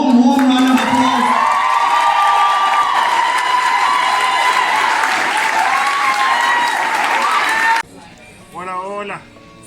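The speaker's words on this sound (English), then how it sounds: "can we give them a warm round of applause?" Loud, sustained audience applause with cheers and whoops at a book launch show, a dense crowd roar for about eight seconds that cuts off abruptly, followed by a brief voice.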